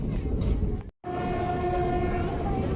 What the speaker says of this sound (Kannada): ನಮ್ಮ ಟ್ರೈನ್ ಈಗ ತಿರುಪತಿ ವೆಸ್ಟ್ ರೈಲ್ವೆ ಸ್ಟೇಷನ್ನ ಸ್ಕಿಪ್ ಮಾಡ್ತಿದೆ